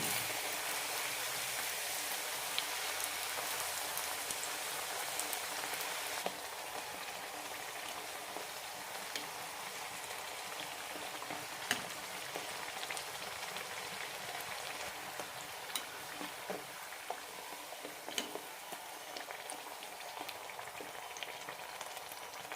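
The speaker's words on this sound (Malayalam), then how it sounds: "ലോ ഫ്ലെയിമിലിട്ട് വറുത്തെടുത്താൽ മതി" Masala poori deep frying in hot oil over a low flame, a steady close bubbling sizzle with soft crackles running throughout without any talk.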